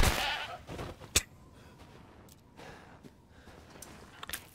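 A goat in a video game gives a loud bleat at the start, then fainter clicks and light thuds follow over low background noise.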